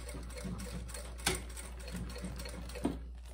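A sewing machine stitches a bag with a slow, soft mechanical chatter, close and fairly quiet, with a couple of sharper clicks and a steady low hum beneath.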